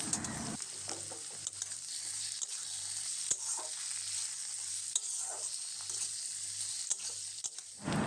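Onions fry in a pan toward browning for a chicken and potato curry, a steady close sizzle with repeated rhythmic stirring scrapes and occasional sharp taps of the utensil against the pan.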